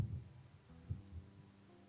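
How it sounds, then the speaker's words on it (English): A heartbeat effect thumps softly, a few muffled low beats with a faint hum beneath, quiet and close. "Every heartbeat seems louder than the last"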